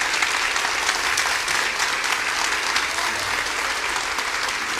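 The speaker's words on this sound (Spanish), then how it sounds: "si se puede poner en pie y recibir con un fuerte aplauso a Agustín Laje" Audience at a church event rises to applaud a guest speaker, a dense, steady wash of many hands clapping at close range for the whole stretch, with no pause.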